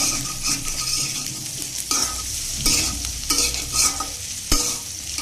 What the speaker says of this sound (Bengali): আলু তিল বাটা আর আদা বাটা দিয়ে বেশ ভালো করে কষিয়ে নিয়েছি